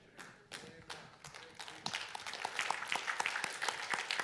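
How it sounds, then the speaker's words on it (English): A church congregation claps together, starting scattered and swelling into steady, loud rhythmic hand claps that fill the room. "Give God a hand clap of praise."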